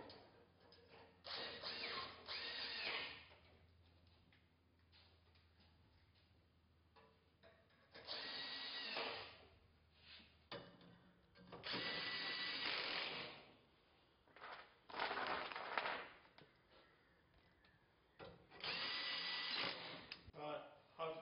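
Power screwdriver driving screws through steel RHS into top and bottom plates of a homemade staircase, several loud whirring bursts of a few seconds each separated by quieter handling noise, with a voice talking at times.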